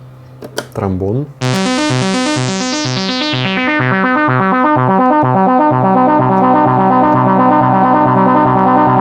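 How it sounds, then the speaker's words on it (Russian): Trombone voice from a Soviet Maestro (Маэстро) electronic synthesizer: after a brief swooping blip, a loud brassy sustained pulsing tone starts bright and mellows as the filter closes, holding steadily to the end. "Тромбон."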